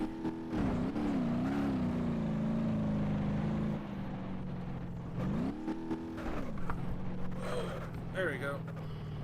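A 1996-2001 Ibishu Pessima DX front-wheel-drive commuter car drives in BeamNG.Drive, its engine droning and revving up and down with shifting pitch, alongside scrapes and knocks, under a person talking.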